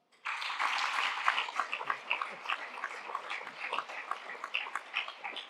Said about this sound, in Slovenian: tako da en velik aplavz